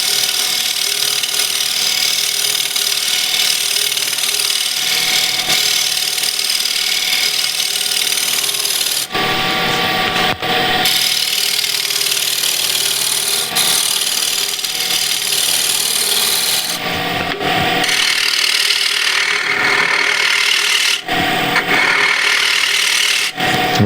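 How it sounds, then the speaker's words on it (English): A wood turning scraper cuts into a spinning lathe base, making a steady, loud, close rasping scrape that continues almost without a break, with a few short dips in pressure. "I'm just going to do it with the scraper."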